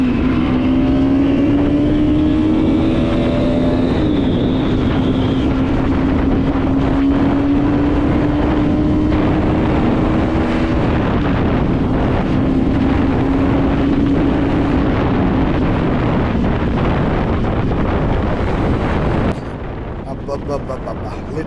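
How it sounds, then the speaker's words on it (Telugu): A 2025 Bajaj Pulsar NS 200 motorcycle engine rises in pitch as the throttle is opened during a ride, a loud steady drone mixed with heavy wind buffeting that cuts off abruptly near the end. "నేను థ్రాటిల్ ఓపెన్ చేస్తాను చూడండి."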